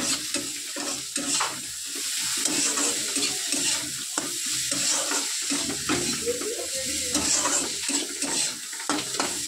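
A little oil sizzles in a pan for lote fish, a steady hissing fry that runs throughout, with light stirring and a wash of rain or running water behind it, all close and with no talk.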